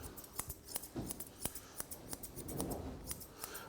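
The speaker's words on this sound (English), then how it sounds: "we can just blend in with the scissors" Grooming scissors snip through a Cockapoo's coat during a teddybear trim around the leg, giving quick, crisp metallic clicks in an irregular rhythm, close and fairly quiet with no talking.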